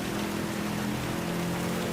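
Steady rain hiss in Gran Turismo 7 during a wet race at the Nürburgring, with a low hum of the car's engine underneath, continuous and fairly loud throughout.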